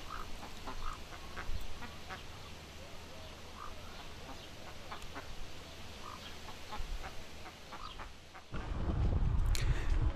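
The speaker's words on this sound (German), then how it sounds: "Enten und Gänse finden wir hier auch." Ducks and geese on a German farm quack and honk in scattered calls against a steady outdoor background, near to mid-distance, before a louder rumble of wind or movement takes over at the end.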